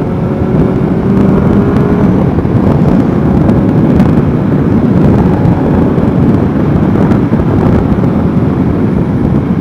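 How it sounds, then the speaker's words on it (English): Steady, loud low rumbling of wind buffeting a microphone, continuous throughout with no voices. "Pretty windy today."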